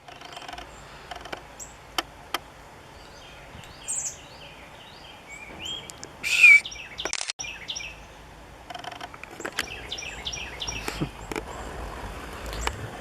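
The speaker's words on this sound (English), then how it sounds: "we'll get this bird here." Small birds chirping outdoors beside an old railway right-of-way, with scattered short tweets and calls coming in brief bursts against a quiet background, one louder call standing out midway.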